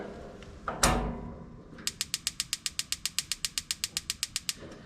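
A gas heater's control knob is turned to the pilot setting, giving a brief scrape followed by a quick, even run of about twenty close, crisp ratcheting clicks.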